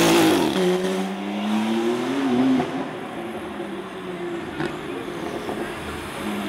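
A Porsche sports car engine revs loudly nearby at a street car meet, its rising and falling tone sweeping up then settling into a steady drone as it pulls away, with faint voices in the background.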